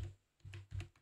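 Quiet typing on a computer keyboard during design work in Canva: a few soft clusters of key taps spaced apart, close and faint, with no voice.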